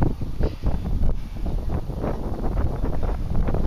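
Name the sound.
wind blowing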